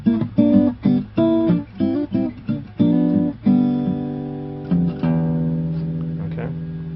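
A song picked on guitar at the start of the second verse: a run of crisp plucked notes and chords in a bouncy rhythm, ending on a ringing, slowly fading chord, close and solo with no voice.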